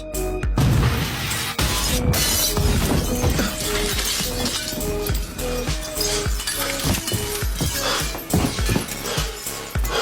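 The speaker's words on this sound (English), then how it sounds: "the glass on the window cracked from pressure." Window glass cracks and shatters under pressure, a loud, dense burst of breaking and tinkling fragments that continues in sharp, scattered crackles and clinks close by.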